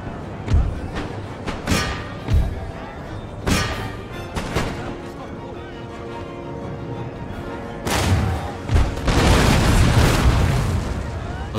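Line infantry volleys and cannon fire in a Napoleonic-era Empire: Total War battle, with repeated booming shots and crackling musket bursts at irregular intervals, swelling into a dense, loud barrage near the end.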